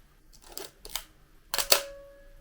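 A Pentax LX film SLR shutter firing at slow speeds, heard as several distinct mechanical clicks in a row with short gaps between them, close and fairly clear in a quiet room.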